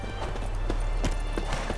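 Roach, a horse in The Witcher 3 video game, trots with steady rhythmic hoof clip-clops, close and clear, with a faint ambient game bed beneath and no talking.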